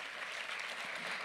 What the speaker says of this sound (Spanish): Y le puedes dar ese aplauso al Señor.